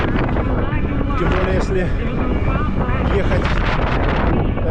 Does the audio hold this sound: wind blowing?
yes